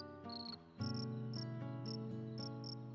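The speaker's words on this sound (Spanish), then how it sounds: "El grillo, sereno, contento, cantaba melodías de amor." A cricket sings on a moonlit night, giving short, bright chirps in a regular rhythm, some paired, over sustained soft musical tones.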